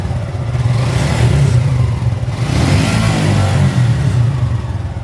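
Suzuki Gixxer motorcycle engine revving loudly up close, a continuous throaty roar that swells and eases in waves through the clip, with no voices over it.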